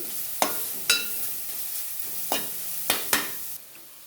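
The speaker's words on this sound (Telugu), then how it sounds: "నేతిలో క్యారెట్ వేసేసుకోవాలి వేసుకొని కొంచెం క్యారెట్ అయితే దోరగా ఏం చేసుకోవాలి" Carrots frying in ghee for a moong dal coconut carrot payasam give a low steady sizzle, broken by several sharp stirring clatters of a spoon against the pan. No voices.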